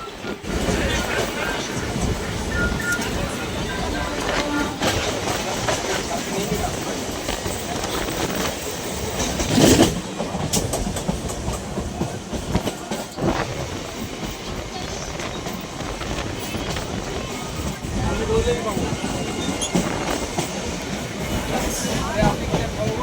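A train rolls into Beldanga station with steady wheel clatter and rumble, a brief louder clank near the middle, and a voice speaking over the noise throughout.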